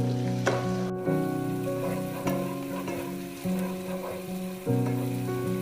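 Shallots sautéing in a pan for a crab roast, giving a steady close sizzle with periodic scraping stirs of a spoon against the pan, no voices.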